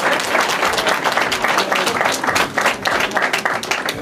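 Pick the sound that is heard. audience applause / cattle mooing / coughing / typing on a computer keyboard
audience applause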